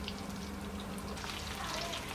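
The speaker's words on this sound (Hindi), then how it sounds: "अब इसमें मैं स्पून चलाऊंगी और इसको इसी तरह से फ्राई होने दूंगी थोड़ी देर और" Bread-based pizza samosas fry in hot oil as a spoon stirs them, giving a soft, steady, bubbling sizzle that stays fairly faint throughout.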